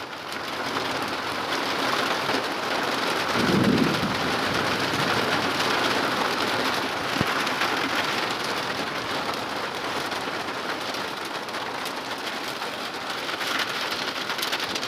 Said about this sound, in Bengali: কিন্তু একটা সাউন্ড শুনতে পাচ্ছ, ওই সাউন্ড, ওই দিকে বৃষ্টি হচ্ছে,